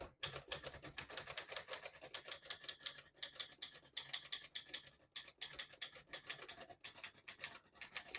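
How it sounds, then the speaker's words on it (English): Rapid, rhythmic clacking of a 1955 Olivetti Lettera 22 manual portable typewriter, keys striking in quick bursts with brief pauses, close and clear. "I'll type a sentence in red on the next line"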